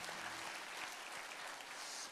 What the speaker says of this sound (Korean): 우리 그 주님께 감사와 영광의 박수 이 시간 함께 올려드리도록 하겠습니다.